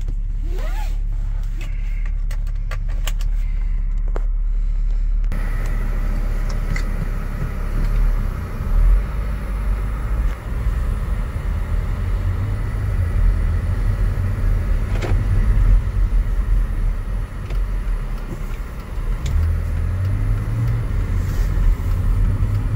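A 2007 BMW X3 all-wheel-drive SUV with 132,000 miles and a weak battery idles steadily with a low engine rumble throughout, captured close and without talk.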